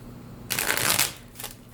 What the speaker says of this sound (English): I'm having some trouble shuffling your cards